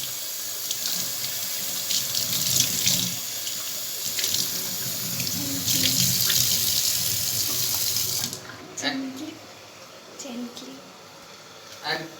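Tap water running into a sink while eggs are washed, a loud close hiss and splash that stops abruptly partway, leaving quieter handling sounds and a voice speaking in the background.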